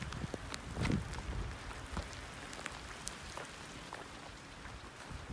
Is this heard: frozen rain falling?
yes